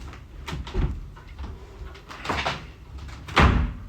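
A locked balcony door is forced open with repeated heavy thumps and rattling bangs, several irregular knocks building to one loud final jolt, close by, with no talking.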